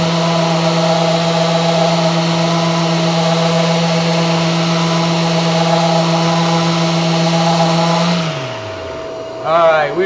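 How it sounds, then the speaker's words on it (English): A loud, steady power sander whine with a constant hum runs for several seconds, then winds down and stops near the end. "See, we've got just a little bit more to go for the sanding."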